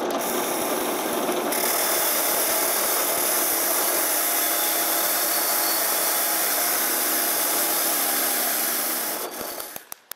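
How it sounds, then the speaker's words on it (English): Abrasive nylon wheel spinning steadily against the threads of old hand rail fittings, a continuous close rasping hiss that holds for about nine seconds before cutting out. "I chucked up an abrasive nylon wheel to gently clean the threads"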